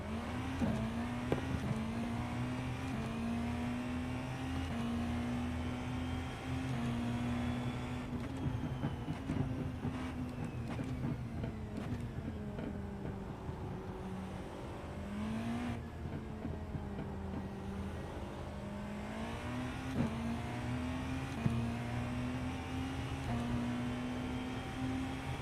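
Race car engines drone at Imola in iRacing during an IMSA endurance race. A near, steady engine whine rises and falls in pitch through gear changes, and other cars pass faintly.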